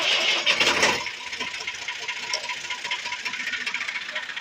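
A tractor engine cranks and catches at a village brickyard, then settles into a steady, rattling idle heard close by.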